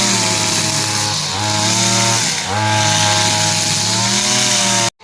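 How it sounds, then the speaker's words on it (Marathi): A grass-cutting machine drones loudly and continuously nearby as it cuts grass in a village, its engine pitch dipping twice as it bogs down under load, then cutting off at the end. "हे सारं गवत ॲक्च्युली कट करायचं आहे हे बघा त्यांनी मशीन आणली आहे"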